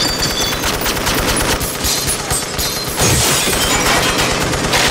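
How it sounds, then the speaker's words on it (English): Heavy .50 caliber machine gun fire from a shootout in the TV drama Breaking Bad: a loud, dense, continuous stream of rapid shots with a heavier thump near the middle, and no voices over it. "Them big bullets, them 50 cals."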